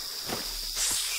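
A brief, steady snake hiss from the video game Metro Exodus, a short breathy noise that swells slightly toward its end over quiet background.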